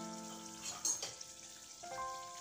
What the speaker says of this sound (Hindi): इसे मध्यम आंच पे तलना है